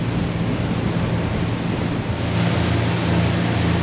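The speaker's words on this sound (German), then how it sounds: "Jetzt rauschen wir übers Markermeer." A motorboat engine drones steadily beneath rushing water and wind noise while crossing the Markermeer lake, a continuous loud roar with no pauses.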